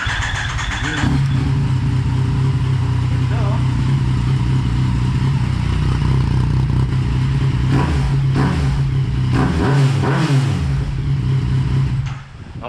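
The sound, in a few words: motorcycle with affordable aftermarket muffler revving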